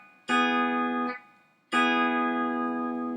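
Guitar strings struck and quickly muted by palm blocking with curled fingers, heard as two loud strummed chords, the first choked off after under a second and the second left to ring, with no talk.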